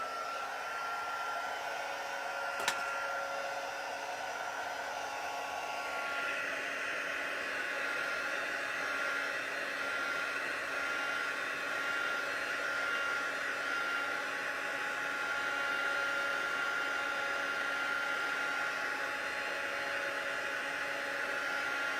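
Steady hot-air roar of a heat tool melting white embossing powder on a Stampin' Up! fun-fold birthday card, a continuous close whoosh with a slight shift early on and no talking.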